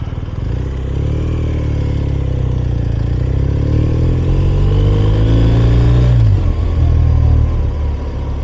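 BMW R 1250 RS motorcycle riding through downtown Austin traffic, its engine droning steadily and close with a rising rev before a brief shift dip, then holding on.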